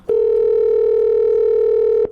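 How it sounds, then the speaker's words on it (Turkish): A telephone ringback tone sounds during a call in a Minecraft game, one loud, steady, continuous buzzing tone of about two seconds that starts and stops cleanly. "Şuradan arayayım hemen. Heh çalıyor."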